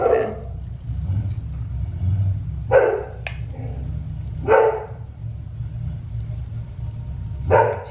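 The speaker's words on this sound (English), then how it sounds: "She's probably barking at the neighborhood dog" Several sharp dog barks ring out at irregular intervals over a steady low rumble, moderately close and loud.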